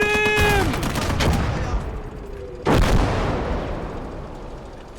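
A video game plays a sustained burst of gunfire followed by a single louder boom, both loud and close, and the echoes fade out afterward.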